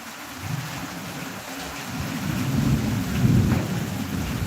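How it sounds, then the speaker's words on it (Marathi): Heavy rain pours steadily while low thunder rumbles and swells, building to a louder roll near the end. "एवढे जबरदस्त पाऊस चालू आहे आपण बघू शकतो"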